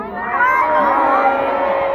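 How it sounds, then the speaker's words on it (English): A large concert crowd at a show in Ho Chi Minh City, Vietnam, shouting a greeting together in one loud, sustained collective cry that swells and holds for about two seconds. "Say, hi, Marie"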